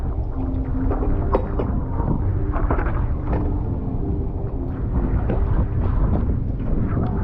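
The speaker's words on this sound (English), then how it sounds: "It is crazy windy up here" Heavy wind on the upper deck of a Disney Wish cruise ship during a hurricane buffets the microphone in a constant low roar, with scattered thumps and rumbles underneath and no voices.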